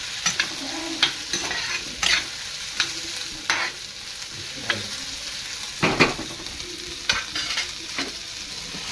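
Onions frying in a pan under a constant soft sizzle, stirred every second or so with sharp metallic scrapes of a spatula, close and repetitive throughout.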